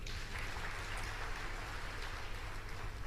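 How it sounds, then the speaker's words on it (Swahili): An audience at an ACT Wazalendo political gathering applauds for Mama Zainab, the party's legal counsel, with a steady, dense patter of clapping that carries on evenly throughout. "mpigeni makofi Mama Zainab"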